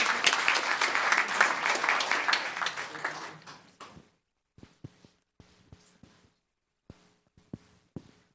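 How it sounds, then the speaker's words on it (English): Loud applause from a crowd at a Los Gatos town council meeting after the Pledge of Allegiance, building briefly and then fading out into a few scattered, isolated claps. "Round of applause."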